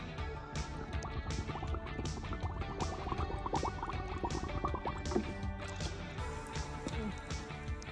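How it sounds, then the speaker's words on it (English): Water runs and splashes steadily into a snow foam bottle while valeting a Mercedes C-Class, a continuous close, bubbling pour with faint rhythmic gurgles throughout. "fill up this with water and the rest with snow foam"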